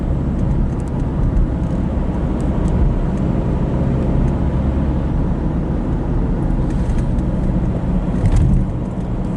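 A car drives along a road near Châtillon, and inside the cabin there is a constant loud low rumble of engine and road noise with steady tyre roar and occasional faint clicks, continuous throughout with no talking.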